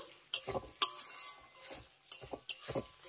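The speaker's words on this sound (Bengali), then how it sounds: "এবার ক্যাপসিকামটাকে মশলার সঙ্গে একবার ভালো করে মিশিয়ে 1 মিনিটের মতো কষিয়ে নেব" Triangle-cut capsicum being stirred and sautéed with masala in a pan, a spoon scraping and knocking against the metal in a few separate bursts, close and clear, with no voices.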